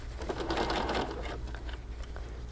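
A sewing machine runs steadily, stitching along the bottom hem of a lined children's garment with a continuous, rapid mechanical whirr, close and clear.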